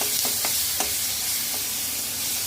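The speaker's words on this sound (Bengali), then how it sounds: "একটু মিডিয়াম ফ্লেমে পাঁচ মিনিট কষিয়ে নিয়েছি" Masala sizzles softly while being sautéed over a medium flame for a cauliflower, potato and soybean curry, a continuous fine hiss with a few light taps of the spatula, close and quiet.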